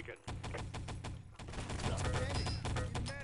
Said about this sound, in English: Nice shooting there by Velko.